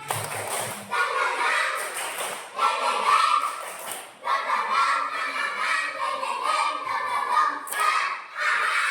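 Children in a classroom perform the 'tepuk semangat' rhythmic clap, bursts of patterned clapping and chanting voices repeating in short phrases, fairly close.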